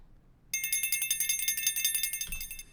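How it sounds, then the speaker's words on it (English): Small baby cowbells in a playful kids-show style music cue, a quick run of bright metallic rhythmic tinkles starting after a brief silence, with a low thump near the end. "we've got these cowbell sounds. They're actually called baby cowbells."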